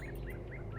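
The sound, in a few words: birds chirping in video game The Talos Principle 2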